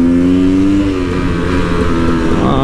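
A KTM 300 EXC two-stroke dirt bike engine revs loud and close, holding a raspy buzzing drone whose pitch slides down and then climbs again while riding.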